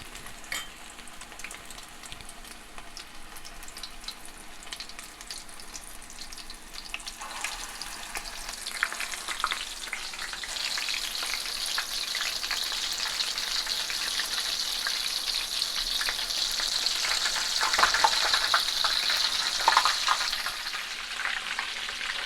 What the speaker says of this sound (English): drop it in your pan with some oil